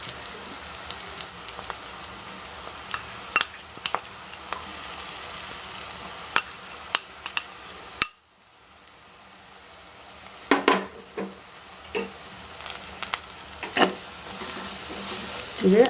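Masala paste fries with softened onions in a pan for a fish curry with kudampuli, a steady sizzle punctuated by repeated scraping and stirring knocks, briefly cutting out midway before resuming.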